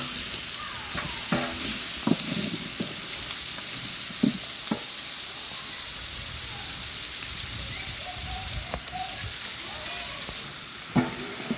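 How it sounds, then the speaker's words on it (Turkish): Peppers fry in oil for a garlicky vinegar-and-oil tomato and pepper pickle, a continuous close sizzle with occasional soft pops and stirring taps. "bayağı bir kızarmaya başladılar biberlerimiz"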